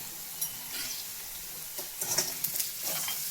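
Soya chunks deep-frying in hot oil, a continuous bright sizzle with bursts of bubbling and a few light stirring scrapes, close and fairly soft throughout.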